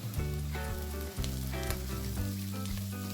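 Finely cut garlic and celery pieces sizzle loudly in a hot pan, a steady crackling fry broken by brief stirring scrapes.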